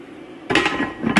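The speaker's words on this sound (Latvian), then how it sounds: "Uzliksim vāku." A lid lands on a pot of soy meat stewing with carrots and herbs, giving a single close metallic clatter that rings briefly, with a second small clink right after.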